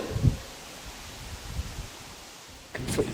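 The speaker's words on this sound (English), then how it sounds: "There's a right bloody there's a right gust coming through there" Faint, airy rush of a wind gust moving through an old church interior, a low breathy hiss that swells briefly near the start and again toward the end.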